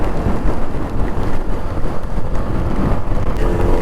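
Heavy rain pours during a motorcycle ride through the hills from Manali toward Delhi, a loud rough roar mixed with buffeting wind on the microphone, continuous and close.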